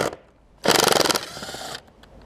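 A ratchet loosening a bolt on a Troy-Bilt TB230 self-propelled push mower, heard as one loud, rapid burst of clicking that lasts about a second and then fades.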